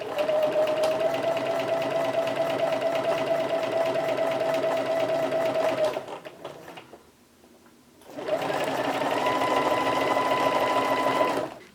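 A sewing machine stitches vegan leather in a fast, steady whirring run of about six seconds, pauses briefly with quiet handling, then starts again for another long stretch.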